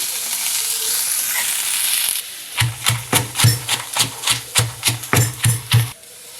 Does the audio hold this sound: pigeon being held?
no